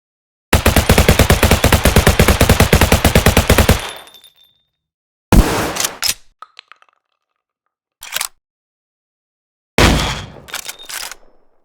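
Rapid machine-gun burst of layered video game weapon samples, loud and close for several seconds, followed by a few separate single and short-burst gunshots with silences between.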